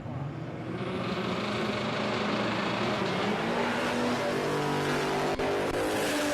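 A Mustang drag racing car accelerates hard down the strip at Palmyra Raceway, a loud sustained engine roar that holds steady throughout, heard from trackside with no talk.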